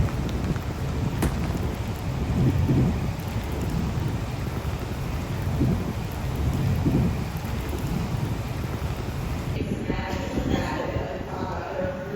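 Heavy rain pours steadily at Barber Motorsports Park during a race weekend, a dense, continuous wash of falling water with low rumbling underneath and no clear break.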